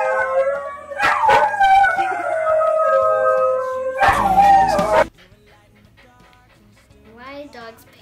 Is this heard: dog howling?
yes